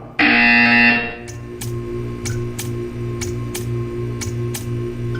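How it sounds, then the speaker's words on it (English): A loud, harsh electronic buzzer from the video game Portal 2 blares for about a second, then stops, leaving a steady low electronic hum with faint periodic ticks. "You will hear a buzzer. When you hear the buzzer, stare at the art."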